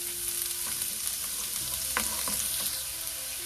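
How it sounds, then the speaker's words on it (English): Garlic and carrot sauté in a hot pan, a continuous soft sizzle with a few light utensil clinks and scrapes from stirring near the middle. "We have to saute this a little bit."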